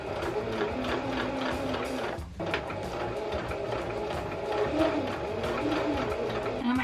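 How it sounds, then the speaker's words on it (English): Sewing machine stitching fine silky fabric, a steady fast mechanical whir with a rapid needle patter, running continuously and close with only a brief dip, no voices. "the sewing machine can actually overpower it and pull the fabric tighter than you want it to"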